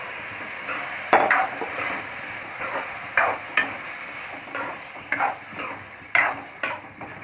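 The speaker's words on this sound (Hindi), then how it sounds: "अब मैं इसमें जो छोले हैं इनको पलट दूँगी" Chickpeas stirred with a spoon into fried masala in a pan while making chole at home, giving intermittent scraping and clattering strokes over a soft background sizzle, close and fairly crisp.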